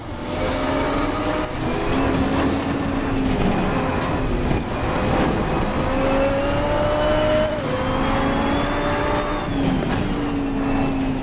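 Race car engine in the racing video game Assetto Corsa Competizione, a steady loud drone that climbs and falls in pitch through revs and gear shifts and sometimes over-revs. It runs continuously with no talk over it.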